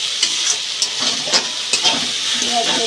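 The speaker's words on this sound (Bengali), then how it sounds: "পেঁয়াজ পেস্টটা দিয়ে ভালো করে কষিয়ে নিতে হবে।" Onion paste sizzling and hissing steadily in a hot pan with spices, with repeated scraping strokes of a spoon stirring it through; close and continuous with no talking.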